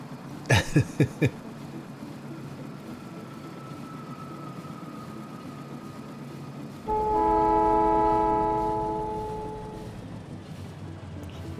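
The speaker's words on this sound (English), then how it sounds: "Train's so fast." A train in the game Factorio rumbles past with a long horn blast, a few sharp clanks at the start, then a louder horn chord swelling and fading, synthetic and game-like.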